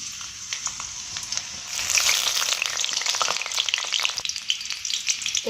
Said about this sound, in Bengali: ওই তেলের মধ্যেই আমি কোচানো রসুনটা দিয়ে দেবো।